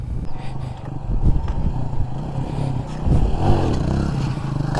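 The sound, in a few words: motorcycle engine revving during wheelie training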